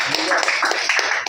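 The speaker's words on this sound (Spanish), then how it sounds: "Dale un aplauso al Señor" Brief burst of congregational clapping during a Sunday church sermon, fairly loud and close, with a voice speaking over it.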